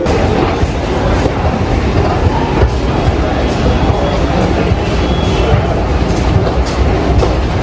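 A Delhi Metro train rumbles loudly and continuously, with a steady roar of wheels on track from inside the carriage.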